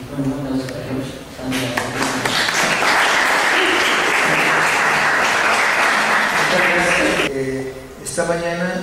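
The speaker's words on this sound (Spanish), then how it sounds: "un aplauso para George." Audience applause at a cultural lecture, a dense burst of clapping swelling for several seconds between stretches of a man's speech, fading as he resumes talking.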